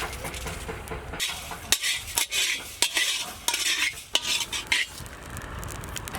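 Coriander seeds, cumin, fennel and black peppercorns dry roast in a kadai while a metal spoon stirs them, giving close, irregular scrapes and clinks against the pan over a soft rustle of seeds.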